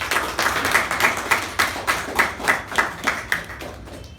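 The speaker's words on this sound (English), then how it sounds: "give speaker and evaluator a big round of applause" A small group at a club meeting claps in unison for a speaker and evaluator, giving a rhythmic series of about a dozen close, evenly spaced beats that ease off slightly at the end.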